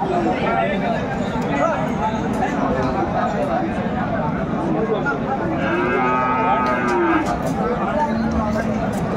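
A Sahiwal bull calf moos at a busy cattle market, its low calls standing out over a constant babble of crowd chatter and people talking nearby.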